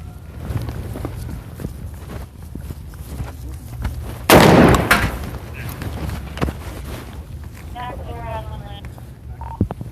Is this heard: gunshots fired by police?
yes